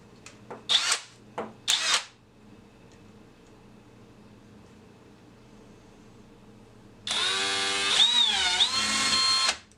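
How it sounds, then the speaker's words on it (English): A power drill whirs briefly in a couple of short bursts, then a longer steady high-pitched run drilling pilot holes in a sheet-metal inspection cover for a Sonex aircraft, after a quiet pause. "now let's go ahead and drill our pilot holes."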